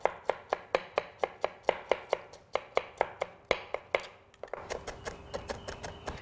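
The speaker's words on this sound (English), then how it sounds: "Always cut the red pepper on the inside of the pepper because it's easier to cut than from the skin." A knife chops through red pepper on a cutting board in a steady run of sharp, close knocks about three per second, a brief pause, then a quicker, lighter series of cuts, with no talking.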